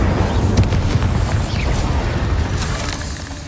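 An Incendio fire spell cast in Hogwarts Legacy bursts out as a loud, dense whooshing roar with a booming low end, fading gradually over a few seconds.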